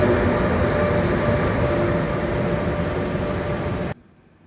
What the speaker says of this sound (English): My train's just arriving bang on time